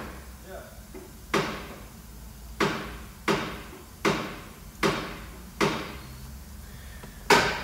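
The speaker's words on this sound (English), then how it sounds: "they got a hammer and they're beating the hell out of it" A hammer pounding on a truck nearby, seven sharp metallic blows at roughly one-second intervals, each ringing briefly over a low idling background hum.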